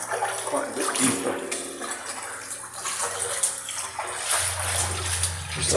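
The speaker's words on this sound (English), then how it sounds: "water is pouring in from all over." Water pours and splashes steadily inside the 1.5-mile Manshead Tunnel at Turvin Clough, Cragg Vale, a continuous echoing rush with a deeper gush building toward the end, with faint talk.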